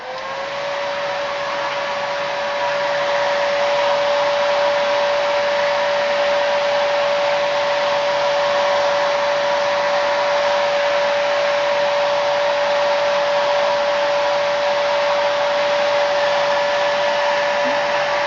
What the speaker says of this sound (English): she's going to use her little blow dryer now to speed that process up. Cool setting on low.